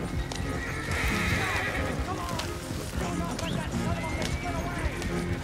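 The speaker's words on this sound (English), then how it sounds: "I'm like whipping this horse." Rapid clip-clop of a galloping horse with a neigh, from the Red Dead Redemption 2 video game, with a person talking excitedly over the hoofbeats.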